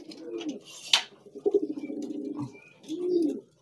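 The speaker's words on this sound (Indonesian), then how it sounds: "kalau ini merpati kolong" A rock pigeon coos up close in soft, low, rolling phrases, with a few brief flutters and chirps between the calls.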